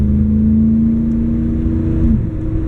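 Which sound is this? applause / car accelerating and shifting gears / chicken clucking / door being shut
car accelerating and shifting gears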